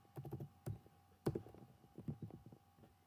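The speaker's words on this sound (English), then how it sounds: "So here I'll just type laptop." A computer keyboard is typed on in a short burst of quiet, close key clicks, pausing briefly midway before another run of taps.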